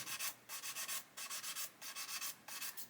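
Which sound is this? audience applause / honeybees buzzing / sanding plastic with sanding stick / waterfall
sanding plastic with sanding stick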